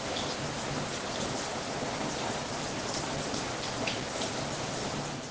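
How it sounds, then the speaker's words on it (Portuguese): Steady rain falling outside on a grey morning, a dense, even hiss of drops on surfaces with faint scattered patters, constant throughout with no voices. "Escuto o barulho da chuva."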